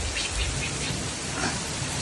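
Heavy rain pours down in a dense, steady hiss on a rural farm, close and loud throughout, with no voices.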